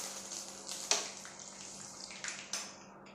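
Onions fry in hot oil with a soft, continuous sizzle punctuated by a few sharp spits and pops, heard close and fairly quiet.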